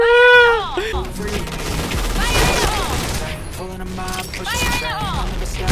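Rapid bursts of gunfire in the shooter game Point Blank, with gun shots cracking in quick strings, loud and close, mixed with game music and sound effects.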